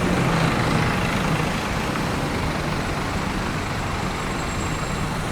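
An Agramas bus pulls into Pondok Pinang bus terminal in Jakarta, its engine a loud, steady, close rumble with continuous road and traffic noise around it.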